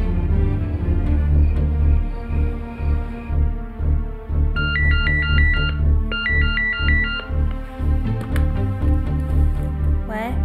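A phone ringtone plays steadily for about ten seconds, a repeating electronic melody over a full, loud musical backing, while someone waits on a call in a city drama.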